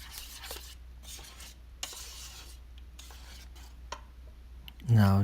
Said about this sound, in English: Now this is the second portion, and you stir it again